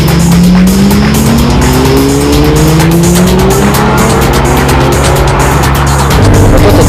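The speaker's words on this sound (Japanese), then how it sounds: "The 580 horsepower Murcielago will be driven by Akihiko Nakaya." A 580 horsepower Lamborghini Murcielago driven hard on track, its loud engine note climbing steadily through the gears while tyres squeal continuously, close and dominant throughout.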